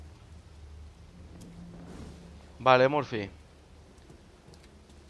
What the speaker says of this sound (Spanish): Está lloviendo, ¿cómo no?